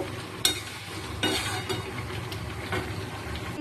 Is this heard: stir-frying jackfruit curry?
yes